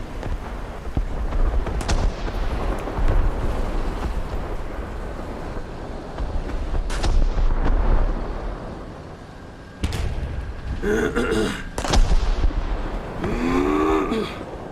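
Artillery strike in a tank battle video game, with heavy booming blasts and rumbling impacts over continuous low battle noise, plus some tonal game sounds near the end.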